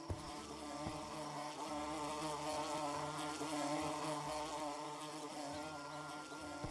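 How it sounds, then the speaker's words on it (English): A bee buzzes in a video game with a continuous droning hum, harmonically rich and steady, while faint soft thuds sit beneath it. "Can I catch the bee?"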